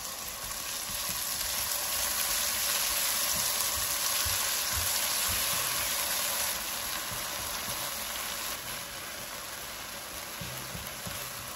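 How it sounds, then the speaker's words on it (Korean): Chopped kimchi stir-frying in oil in a hot pan gives a steady, dense sizzle and crackle that stays loud and even throughout, with faint low scraping and stirring beneath it and no voices. "잘게 썬 김치를 넣어서 1분 30초간 볶아주세요"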